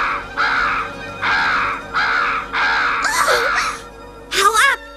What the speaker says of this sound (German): Verschwinde, du dummer alter Rabe!